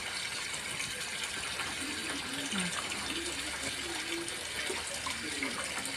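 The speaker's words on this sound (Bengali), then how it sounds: "এখন চুবিয়ে রাখছি গরম জলে পরে তুলে মেশিনে দিয়ে দেবো" Hot water running and splashing over bed sheets and pillow covers set to soak, a steady gushing flow with light sloshing, with someone talking faintly underneath.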